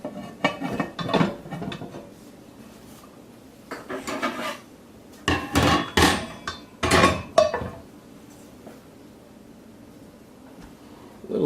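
A 10-inch cast Dutch oven is handled and set up, its metal lid and body clanking and scraping in several clustered bursts, with quiet pauses between them.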